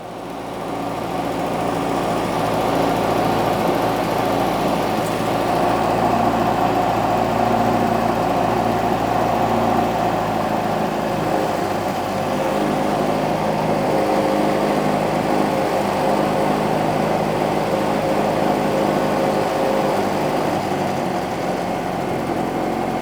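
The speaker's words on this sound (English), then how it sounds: "So now I shall adjust it on these screws with the engine running." An MG Midget classic car engine idles steadily at close range while its carburetors are adjusted, a continuous even drone with no voices.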